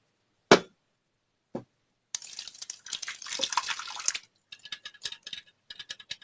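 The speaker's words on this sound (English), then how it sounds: "So I'm going to add my blend crayfish and pepper first." Blended crayfish and pepper hit hot palm oil for okro soup, setting off a few soft taps, then a faint crackling sizzle that fades into scattered spits.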